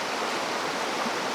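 A stream flowing outdoors, a steady broadband rush of running water close by, continuous and even throughout with no voices.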